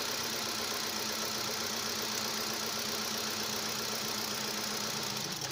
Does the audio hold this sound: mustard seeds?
no